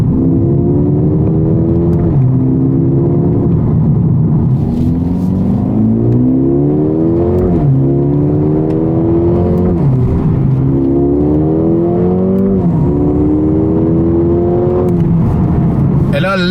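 A Mercedes A35 AMG with a 306-horsepower engine accelerates hard on a closed road, its loud engine note climbing repeatedly through the gears with brief dips at each shift, steady and close throughout.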